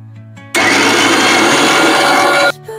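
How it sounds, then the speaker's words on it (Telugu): A kitchen mixer grinder blends garlic, ginger, onion, tomato, coriander and mint into a paste for Andhra-style spicy chicken fry, a loud steady whir for about two seconds between quieter moments. "గార్లిక్, జింజరు, ఆనియన్, టమోటా, కొత్తిమీర, పుదీనా ఇవన్నీ మిక్సీలోకి వేసుకుందాం."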